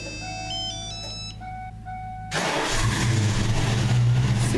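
A Ford Mustang GT with manual transmission starts by remote start: a chiming electronic alert tone plays first, then the engine catches with a sudden loud burst and settles into a steady, throaty idle close by.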